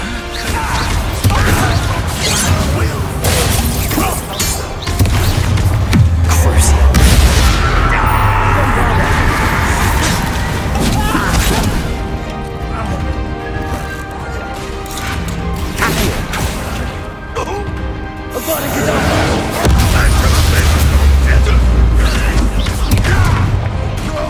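Confringo blasting-spell explosions crash and boom during a troll battle in Hogwarts Legacy, loud and dense over continuous game music and effects, with characters' voices talking at times.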